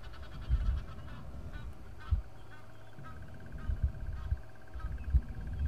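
Egyptian geese honking in scattered calls at a moderate distance over a low rumbling background during a safari drive, with a few louder thumps.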